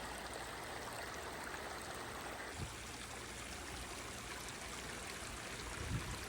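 Steady broadband rush of a creek flowing continuously on a trail in Los Padres National Forest, fairly close, with a couple of soft splashes and no voices.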